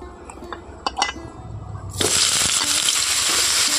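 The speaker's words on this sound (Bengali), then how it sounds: "এইভাবে হাই হিটে এই চিচিঙ্গাগুলোকে ভেজে নিতে হবে" Chopped ridge gourd (chichinga) hits hot oil in a pan on high heat, a few clinks first, then a sudden loud, steady sizzle that carries on to the end.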